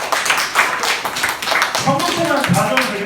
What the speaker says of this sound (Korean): 승주에게 박수 한번 줘요.